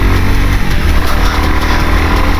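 A 2021 Royal Enfield Classic 350 single-cylinder engine pulls hard in first gear, a loud, close, steady thumping drone with a throbbing low-end pulse throughout.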